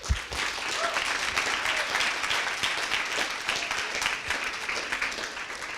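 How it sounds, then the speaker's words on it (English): An audience at a coding bootcamp demo day in Montreal gives steady applause for the students, a dense sustained wash of many hands clapping that holds evenly throughout. "I'd like to start with a big round of applause to all of them."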